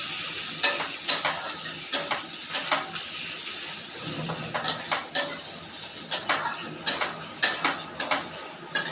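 Onions and bay leaves fry in a pan while a spoon stirs them, with a steady sizzle under a regular run of sharp scraping and clinking strokes against the metal, close up and without talk.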